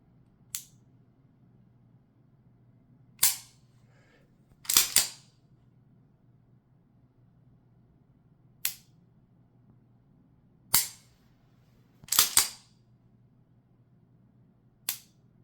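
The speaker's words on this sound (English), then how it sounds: "I was able to just squeeze right through the double action trigger pull" Sharp, isolated metallic clicks from a CZ 75 pistol's double-action trigger being dry-fired, about eight snaps spread irregularly with a few close pairs, crisp and near against a quiet background.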